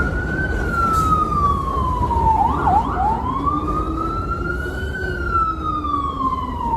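A loud wailing siren sweeps slowly up and down over steady road noise in Bensonhurst, Brooklyn, with a brief yelp partway through, close by and continuous.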